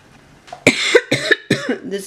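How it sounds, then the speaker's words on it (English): Several harsh coughs in quick succession, loud and close, with a little voice mixed in. "sorry for the coughing"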